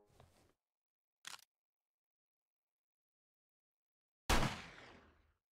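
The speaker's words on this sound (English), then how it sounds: "I heard a gunshot." Gunfire in the survival video game 7 Days to Die: a brief sharp crack, then after a quiet pause one loud bang with a decaying tail, set against near silence.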